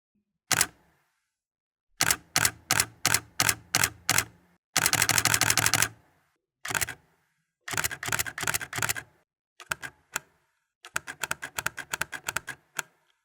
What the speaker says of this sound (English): the shutter sounds that the 70D makes when it's in different drive modes